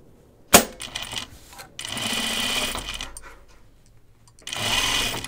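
A sewing machine stitches along a creased fold of fabric binding: a sharp click, then two steady runs of whirring stitches separated by a short pause, close and clear.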